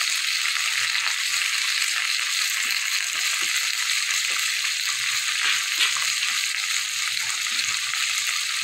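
Ground turmeric, cumin, green chillies and vegetables for Bengali niramish labra curry frying in hot oil, a steady bright sizzle with soft scraping stirs and light clinks of a spatula against the pan.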